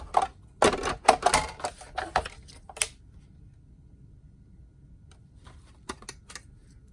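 A Big Shot die-cutting machine crank-cutting several framelits shapes at once gives a burst of sharp, clustered clicks and crunches for about three seconds, then near-quiet, with a few isolated clacks near the end.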